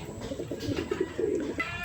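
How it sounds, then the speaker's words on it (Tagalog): Pigeons coo softly and repeatedly at close range as a pigeon lands on a loft landing board, with a faint rustle of wings and light background noise. "Diretso sa landing board. Pasok na Lucky"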